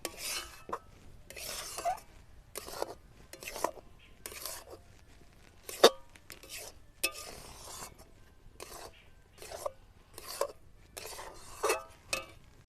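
Semolina being stirred continuously in a wok while cooking, scraping and rasping against the pan in repeated short bursts of a second or so, fairly close, with quiet gaps between strokes.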